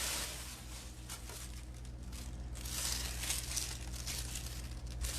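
Scissors snip through a plastic grocery bag, producing close, faint crinkling and rustling of thin plastic in a quiet room.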